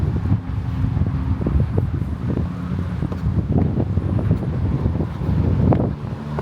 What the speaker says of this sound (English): Even though it is super windy